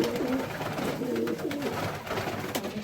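Cock pigeons coo steadily in a loft, several soft overlapping calls repeating close by with a continuous hum of background noise and no talking.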